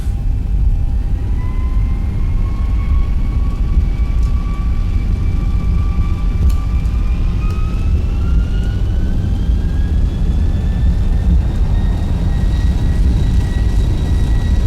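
Boeing 737 jet engines roar steadily at takeoff power in the X-Plane flight simulator, a loud, continuous rumble with a whining tone that climbs in pitch as the engines spool up.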